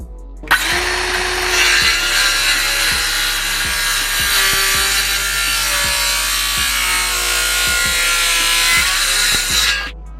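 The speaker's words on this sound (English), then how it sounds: "Then I use a circular saw to make sure that cut was nice and precise." A circular saw cuts through a wood board for a board-and-batten wall in a game room, a loud sustained whine holding steady for about nine seconds, with faint rhythmic knocks beneath.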